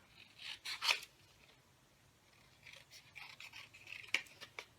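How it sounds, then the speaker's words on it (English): Scissors cut through craft paper for a tiered tray, in two bursts of crisp snipping and rasping strokes, close and fairly quiet, with no talking. "I'm going to cut that out."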